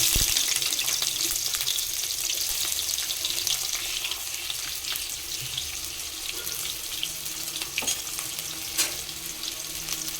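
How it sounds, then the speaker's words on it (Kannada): Finely chopped onions tossed into hot oil for pepper chicken, giving a continuous hissing sizzle that stays loud and even throughout, with a few sharp crackles and spatula taps, no talking. "ಸ್ವಲ್ಪ ಎಣ್ಣೆ ಬಿಸಿಯಾದ ತಕ್ಷಣ ನಾವು ಸಣ್ಣದಾಗಿ ಹಚ್ಕೊಂಡಿರ್ತಕ್ಕಂಥ ಈರುಳ್ಳಿ ಹಾಕೋಣ"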